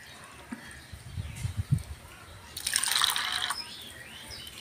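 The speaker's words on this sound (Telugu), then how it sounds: "ఇప్పుడు ఈ కప్పుతోనే ఒక కప్పు వాటర్ పోసుకొని నానబెట్టుకుందాం." Around a cup of water is poured over washed Bombay rava to soak it, a bright splashing pour lasting a couple of seconds after some soft low knocks, close and fairly quiet.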